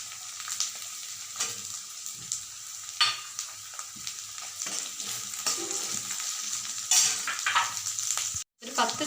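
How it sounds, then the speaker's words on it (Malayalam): Small shallots, halved, sautéing in hot oil over ginger and garlic for chicken kondattam, giving a steady close sizzle and fry with occasional stirring scrapes in the pan. "ഇനി അതിലേക്ക് ചെറിയ ഉള്ളി ഇട്ട് കൊടുക്കാം."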